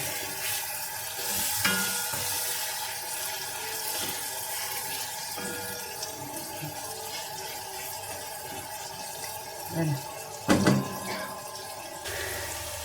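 Macaroni fries in a pan while being browned to a deep red, giving a steady, close sizzle throughout, with a brief clatter of stirring near the end.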